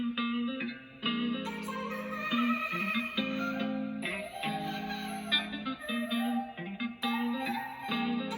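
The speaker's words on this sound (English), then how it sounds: "some vocal chops off of arcade too," Vocal chops from the Arcade sample plugin repeat in short pitched, processed fragments over a steady beat, bright and effected, playing alone at moderate loudness.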